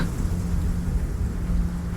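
A thunderstorm with steady rain outside a phone box in Italy gives a dense, continuous low rumble and hiss, loud and unbroken for the whole stretch, with no voices.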